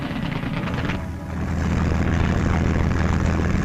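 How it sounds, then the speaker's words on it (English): Aeroplane engines of June 1944 D-Day air operations drone loudly and continuously, a thick rumbling roar that swells slightly and then holds steady. "the sound of aeroplane engines filled the air"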